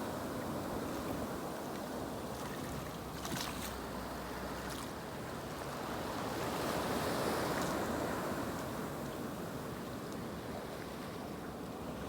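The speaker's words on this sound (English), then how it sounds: "There's a few little rolls in the water, but it ain't as bad as yesterday." Sea waves roll and wash onto a steep beach in a continuous loud surf rush with wind noise buffeting the microphone.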